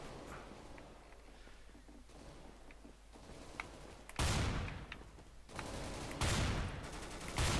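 Counter-Strike: Global Offensive gunfire arrives as two loud, sharp bursts of automatic shots in the second half. Faint footsteps and clicks come before them, with no voices.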